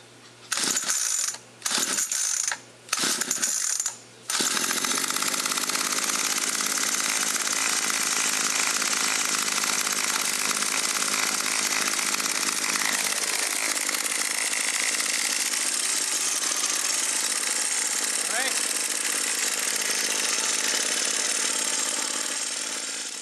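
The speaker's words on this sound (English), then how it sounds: "Pull 3 to 5 times to start the engine." A Murray 25cc string trimmer is pull-started: four quick, sharp tugs on the starter cord, then the engine catches and runs loud and close in a steady, buzzing drone for the rest of the clip, with no talking.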